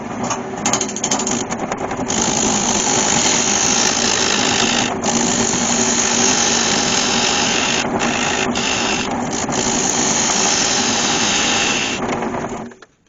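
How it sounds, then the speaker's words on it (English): A wood lathe turns a tenon on the end of a natural-edge oak vase blank, producing a loud, steady whirring hum with scraping from the cutting tool and a few short breaks in the cut, then spinning down at the end. "So the first thing I'm going to do is turn a tenon on this end"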